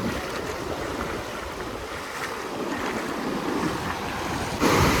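Rough, stormy sea surf roars continuously against the shore during a gale-swept fishing outing, with steady wind buffeting the microphone and a louder gust-laden surge near the end.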